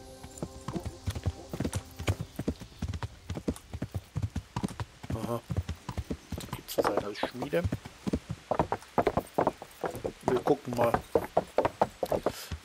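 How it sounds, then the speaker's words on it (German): Steady clip-clop of a horse's hooves on the road to Rattay in Kingdom Come: Deliverance, a brisk regular walking rhythm up close, with someone talking over parts of it. "Dann reiten wir mal nach äh, Rattay."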